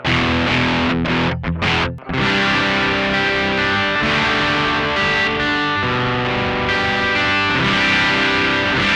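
Electric guitar through a BOSS DS-1 distortion pedal with the distortion knob at minimum, still gritty and crunchy: loud strummed chords and ringing sustained notes with a short break early on, played alone without talk.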